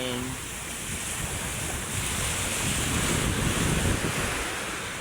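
Rough, choppy sea surf rolls in steadily at Manila Bay during a typhoon, a broad continuous wash of waves mixed with gusty wind noise buffeting the microphone, with no voices.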